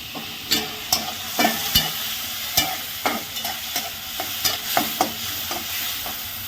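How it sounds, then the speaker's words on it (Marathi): Onion frying in a pan for garlic sev bhaji, with a soft background sizzle and a brisk run of sharp spatula taps and scrapes against the pan, close and alone. "आता आपण चांगला लालसर थोडासा होईपर्यंत कांदा भाजणार आहे"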